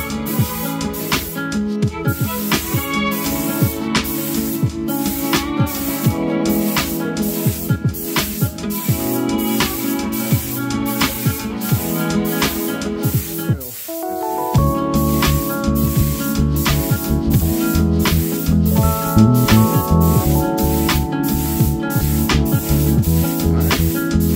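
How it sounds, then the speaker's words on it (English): A paint spray gun hisses in repeated bursts with short pauses, close up, over a busy background of music-like tones; spraying Rust-Oleum paint with kandy liquid pigments. "mix it up, load up the gun, and we'll be ready to spray"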